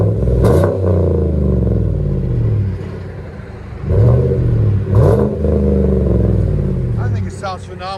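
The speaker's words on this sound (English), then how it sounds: "The Flow FXs really sound deep on those." A 2015 Chevy Silverado Z71 with a Flowmaster Flow FX exhaust revs loud and close, with deep repeated throttle blips and a steady idle rumble between them, and a voice briefly near the end.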